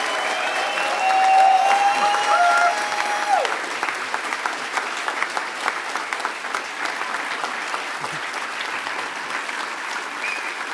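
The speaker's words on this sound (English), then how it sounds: "Give him a huge round of applause" Audience applause at the closing ceremony of the Next HOPE hacker conference in 2010, sustained and fairly loud throughout, with a brief tonal sound near the start and the clapping thinning slightly toward the end.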